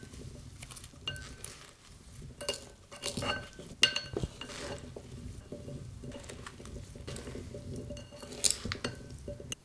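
Blueberries tossed with lemon juice in a bowl make soft, intermittent clinks and wet stirring rattles of a utensil against the dish, faint and close, with no talking.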